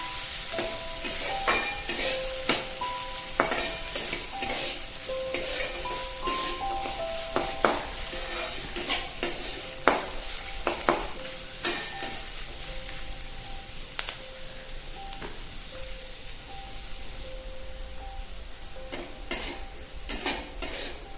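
Chopped onion frying in a pan until golden brown, spatula scraping and stirring through a steady sizzle with frequent clinks of metal against the pan, close and fairly loud throughout.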